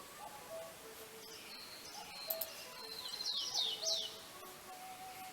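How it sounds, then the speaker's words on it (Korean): Songbirds sing outdoors in the morning: quiet, high chirps and short trilled phrases repeat and overlap throughout, rising into a brighter burst of song near the end over a soft, steady background hiss. "오늘도 새소리가 좋습니다."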